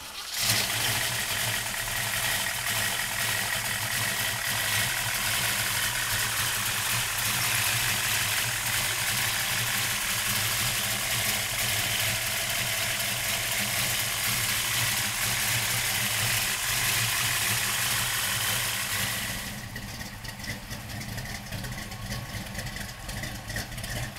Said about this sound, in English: Then we're gonna pop the hood and fire up the motor.